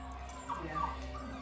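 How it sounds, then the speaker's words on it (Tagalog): Dogs whimpering and giving short yips indoors during a mahjong game gathering, a few brief whines over low room noise with faint voices around. "Uy, labas mo nga yung mga aso."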